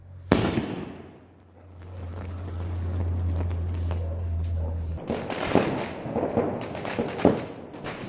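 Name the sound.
2.5 inch sky shot firework shell with blue bubbles effect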